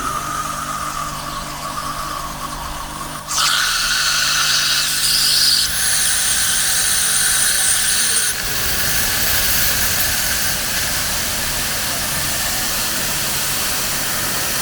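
Ronix mini pressure washer motor whining steadily with a hissing high squeal that jumps louder and brighter as its pressure is adjusted, then settles into a continuous rushing drone; no talking.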